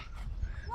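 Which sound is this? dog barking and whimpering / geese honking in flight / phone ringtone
dog barking and whimpering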